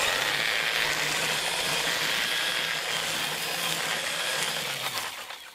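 A Ryobi battery-powered string trimmer whirs steadily through a patch of yellow Coreopsis weeds, a continuous close buzzing motor drone with a faint whining tone that fades slightly near the end.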